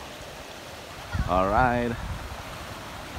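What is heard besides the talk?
flowing river water, Rizal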